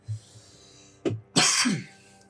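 A few short coughs, one small one followed by two harsher bursts, close and fairly loud with quiet in between.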